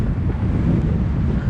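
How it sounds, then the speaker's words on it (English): Strong wind gusts of about 32 mph sweep across Spoon Lake in Minnesota, producing a continuous, loud, low buffeting roar that batters the microphone throughout, with no voices. "This wind is atrocious."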